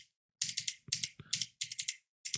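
Typing on a computer keyboard at a desk, a few quick bursts of sharp clicking keystrokes with short pauses between, close and fairly quiet, no voices.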